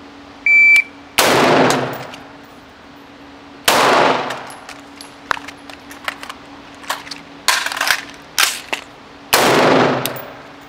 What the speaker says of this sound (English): So it'll be one shot rifle, transition pistol, one shot, rifle back up, reload, one shot.